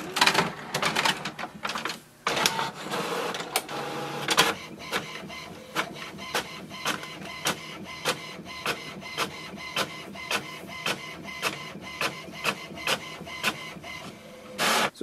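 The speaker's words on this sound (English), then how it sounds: "here we can see our printer has printed the welcome sheet" An HP Envy Photo 7800 inkjet printer runs through a page, a whirring feed start followed by a steady series of rapid mechanical clicks and carriage passes, close and fairly loud.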